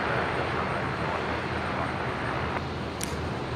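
An aircraft landing at Brisbane airport gives a steady broadband roar throughout, with no clear rise or fall and no voices.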